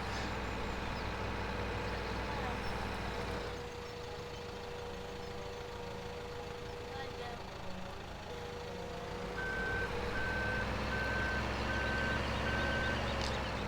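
Reversing beeps from a wheel loader in Farming Simulator 17, a steady evenly spaced beeping over a continuous diesel engine drone, the beeps starting partway through and repeating regularly, no voices.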